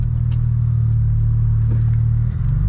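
A BMW 335i engine idles with a deep, steady rumble, close and constant, with a slight change in tone just before the end.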